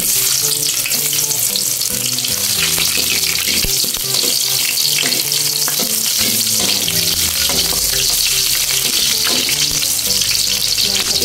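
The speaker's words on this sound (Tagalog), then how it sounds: "Igigisa na po natin yung ating sibuyas." Chopped onion sautés in hot oil in a kawali for adobong kangkong. The loud, dense sizzle stays continuous and close, with occasional stirring scrapes mixed in.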